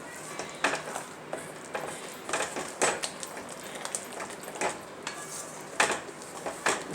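Sweet pongal being stirred with a spoon in a pot, a series of soft scraping clinks repeating in an irregular rhythm, close and moderately loud with no voices.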